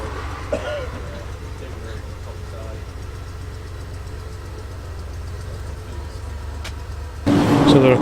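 An Austin A35 engine runs at a pre-1990 car meet, a steady low rumble that holds throughout and swells louder near the end, with faint voices in the background.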